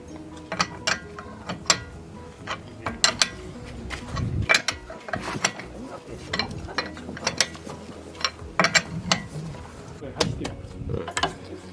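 A ratcheting wrench tightens wheel nuts during a car tyre change, giving close, sharp clicking runs in short irregular bursts over a low background hum.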